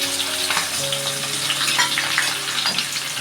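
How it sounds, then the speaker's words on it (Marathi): Chili peppers and garlic sautéing in hot oil for a homemade veg chilli give a steady, close sizzle with dense crackle throughout, with low hums from the kitchen underneath and no speech. "आता मी परतून घेते"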